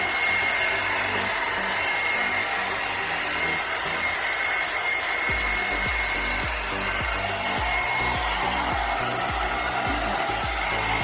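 A Blo Out Brush hot air brush blow-drying hair, a steady whooshing hum that runs the whole time, with a brushing, rubbing texture added partway through, close and continuous with no talking.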